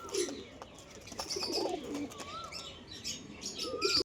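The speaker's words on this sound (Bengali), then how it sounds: "এটা হচ্ছে নর পায়রা" Domestic pigeons, including a male, coo in soft low throaty bursts close by, with several birds overlapping and occasional chirps and light wing flutters in between.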